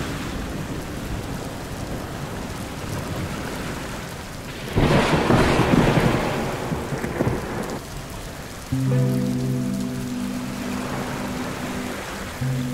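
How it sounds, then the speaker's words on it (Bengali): Heavy rain pours steadily while thunder rumbles loudly near the middle, with a sustained tonal layer joining the downpour toward the end. "আজকে তো প্রচন্ড বৃষ্টি হচ্ছে।"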